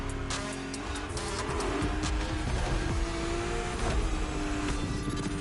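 An Aston Martin DBS drives in The Crew Motorfest, with continuous engine and road noise and occasional tyre squeal, loud and steady throughout without speech.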